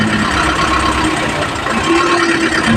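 An Isuzu 4JH1 Euro 4 diesel engine idling, a loud, steady low rumble with a faint tonal whine, heard up close with no talk; the truck has a stalling-while-driving fault.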